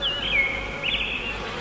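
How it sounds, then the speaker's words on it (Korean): A dense, steady hum of honeybees buzzes at a hive entrance fitted with a pollen trap. Individual bees whine past, close and continuous, with no voices. "지금 꿀벌들이 꽃가루를 모아들이고 있습니다."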